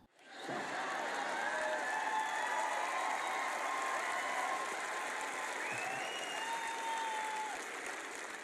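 A church audience bursting into sustained applause during a sermon, a thick, steady roar of many hands clapping that rises quickly and holds evenly, with faint tonal sounds above it.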